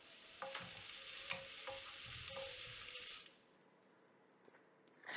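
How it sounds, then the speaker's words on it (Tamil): Onions fry with curry leaves in a pan for garlic tomato thokku, with a close sizzle and a few stirring scrapes for about three seconds before it drops to near quiet. "வெங்காயம் வந்து நல்லா வதங்கிருச்சு"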